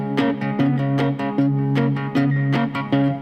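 A guitar plays a straight, unswung rhythm pattern, even picked chord hits over a repeating bass note, clear and close.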